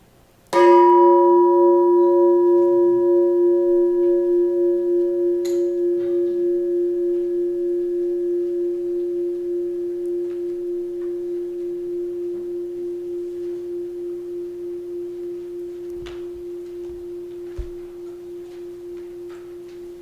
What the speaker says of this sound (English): We had help with the bell this morning.